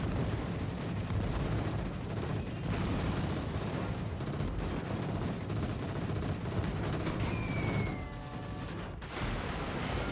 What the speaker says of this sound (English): he's putting up a decent amount of flak